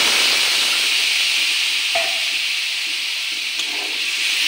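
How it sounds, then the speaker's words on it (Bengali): Water poured into a pan of frying cauliflower and potatoes sets off a loud, steady sizzle and hiss of steam that carries on evenly throughout, with faint clinks of stirring. "আমার ফুলকপি আলুটা ভাজা ভাজা হয়ে গেছে, এখন পরিমাণ মতন জল দিয়ে দেব"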